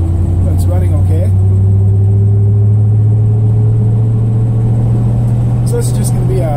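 A 1978 K5 Blazer engine runs on a test drive, a loud steady low rumble heard from inside the cab, with someone talking over it.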